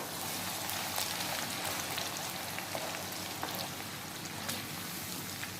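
Carrots half-frying in hot oil over a high flame for a Hyderabadi veg curry, with a steady dense crackling sizzle and scattered pops, fairly quiet and even throughout, no voices.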